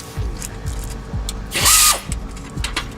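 A ratchet works radiator fan bolts loose on a 1998 Honda Accord, clicking in short repeated strokes at close range, with a brief louder mechanical whir in the middle.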